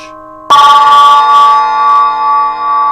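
The B15 signature bell cymbal, struck a single time, rings out bright and loud with a dense shimmer of overtones over a steady pitched tone that sustains and wavers gently as it fades, with no voices.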